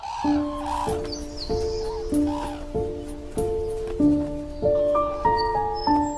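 Red-crowned cranes in Hokkaido call during their courtship dance, loud clear trumpeting notes repeating in a steady rhythm of overlapping pairs, close and strong.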